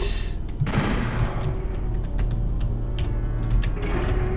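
Gunfire in the shooter Doom 64, rapid mechanical shots clattering in quick succession over a low droning game ambience, close and steady for several seconds.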